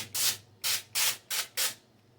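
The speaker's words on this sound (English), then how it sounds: "I'll spray just a little bit of canola oil down." Canola oil sprayed from an aerosol can onto tinfoil in a kitchen, five short close hissing bursts in quick succession, each about a quarter second, with quiet pauses between.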